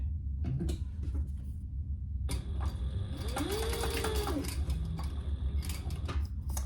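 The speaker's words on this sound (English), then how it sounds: "now we're going to top stitch right around where we just sewed at 1/8 of an inch" A sewing machine topstitches a crossbody bag at an eighth-inch seam: a quiet pause with light handling, then a continuous close mechanical whir with rapid needle clatter that runs to the end.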